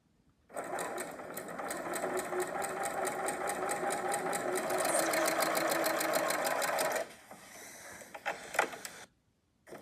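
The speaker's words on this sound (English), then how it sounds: "Lining this quilt bar up with the previous stitch line as I sew the next one is going to make sure that they're parallel." A Janome sewing machine quilts a tote bag panel, stitching in a fast, steady mechanical whir for several seconds before it slows and stops, followed by a few soft handling clicks.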